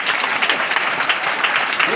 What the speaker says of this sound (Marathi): ह्या टाळ्या भाषण संपण्याकरता का सुरुवात करण्याकरता तेही सांगा